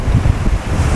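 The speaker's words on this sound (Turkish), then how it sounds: "Ama rüzgardan konuşamıyorum yani" Strong wind buffets the microphone at a seaside spot by the water, a loud, continuous low rumble with surf underneath and no voices.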